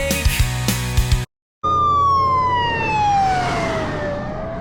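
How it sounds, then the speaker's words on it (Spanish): Ambulance sirens pass by on a hot road during a cycling event, a loud wail sliding down in pitch as they go by, after a moment of road noise and clicks. "Están pasando una de ambulancias tremenda."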